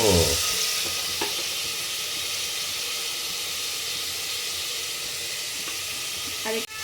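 Onion paste hits hot oil in a pan while cooking Mandya-style chicken sambar, producing a loud, steady sizzle and hiss that runs unbroken from start to finish, with no voices.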